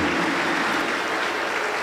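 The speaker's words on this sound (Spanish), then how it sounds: "aplauso el Señor Jesús." Steady applause from a congregation during a Pentecostal church service, a dense continuous wash of clapping that fills the space evenly from start to finish with no talk over it.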